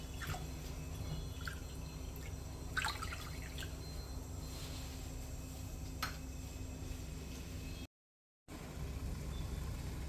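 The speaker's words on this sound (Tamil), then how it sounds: "இப்போ மாவுக்கு தண்ணி நல்லா கொதி வருது" Water boils in a pot on the stove for kozhukattai rice-flour dough, giving a steady bubbling hiss with scattered pops and drips. It carries on without speech and drops out briefly near the end.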